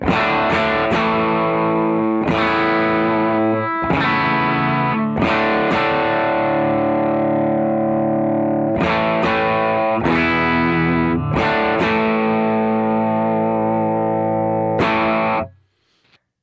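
Distorted electric guitar through a Coppersound Foxcatcher overdrive pedal with the nature knob turned fully back, chords struck and left ringing in a loose rhythm, thick and loud with dulled presence, ending in a quick fade to silence.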